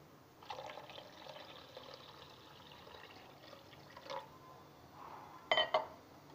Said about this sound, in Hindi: अब इसमें हम पानी मिक्स कर लेंगे।